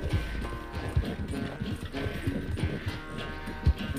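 Hooves pound steadily as a horse gallops in the Red Dead Redemption 2 video game, a close, rhythmic clip-clop running the whole time with occasional heavier thuds and little speech.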